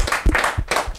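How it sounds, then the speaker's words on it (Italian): A studio audience at a blues concert broadcast claps in a brief burst of a few distinct, close claps, uneven in rhythm, lasting about a second. "Applauso allo studio."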